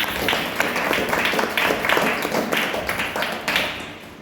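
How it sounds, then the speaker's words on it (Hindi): A church congregation claps loudly for the people who arrived on time, a dense, continuous burst of many hands that stays strong throughout with no speech over it. "उनके लिए जोरदार तालियां बजाएंगे"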